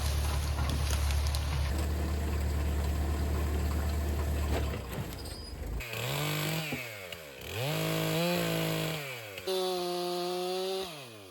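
A chainsaw cuts dead trees into firewood, with a loud, steady rasping cut followed by several rising and falling engine revs, close by and with no talk.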